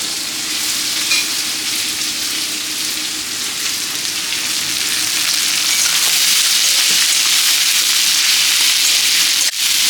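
Chopped onion and potatoes fry in a pan for a Bengali dried-fish dish, giving a loud, steady sizzle throughout with no voices.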